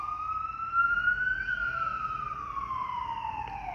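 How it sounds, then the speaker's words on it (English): A wailing siren sweeps slowly up and down, loud and steady, as an emergency vehicle passes nearby with a low traffic rumble underneath. "I am waiting for the sirens to pass."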